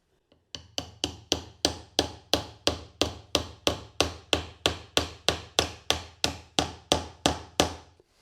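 A hammer taps wooden picture frame molding about twenty times in a steady, even rhythm, each sharp knock close and crisp with a brief decay, with no talking.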